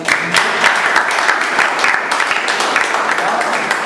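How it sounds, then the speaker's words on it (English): Audience at an evening club meeting applauding, a steady, dense burst of clapping from many hands that fills the short moment at moderate loudness. "A big round of applause."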